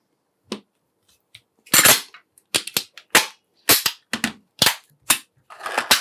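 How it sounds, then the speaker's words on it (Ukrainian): An AK assault rifle being assembled, with a series of sharp, separate metallic clicks and clacks, some in quick pairs, close and loud against near silence. "Збираємо автомат."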